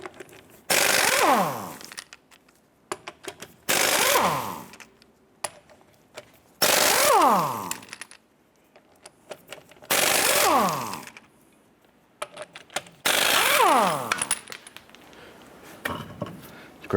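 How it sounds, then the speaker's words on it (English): Impact wrench with a 19mm socket removing lug nuts from a wheel of a 1993-1997 Ford Ranger: five loud, separate bursts of rapid hammering, each winding down with a falling whine, with short gaps between. "let's go ahead and remove our lug nuts."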